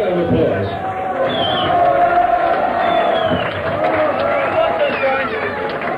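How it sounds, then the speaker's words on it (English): Large crowd noise at a Sex Pistols-era punk gathering in 1977, a steady loud roar of cheering and shouting that holds across the whole stretch with no gaps. "Big round of applause."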